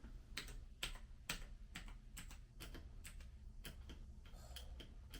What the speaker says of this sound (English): The space key sounds so much different.